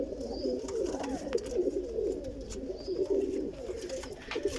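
Pigeons coo in soft, rolling murmurs, several birds overlapping in a steady, nearby chorus with no speech.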